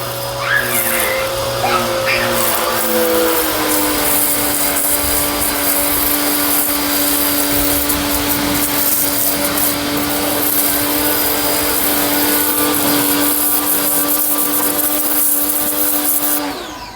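A service pressure pump used for washing a tractor runs loud and steady throughout, a constant whining hum with a strong tonal pitch that settles lower after a few seconds, close to the microphone.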